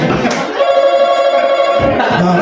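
A steady electronic quiz-game buzzer tone rings continuously with a bright, phone-like warble, loud and close, with brief noisy scuffs at the start and near the end.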